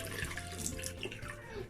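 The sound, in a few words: water running from a tap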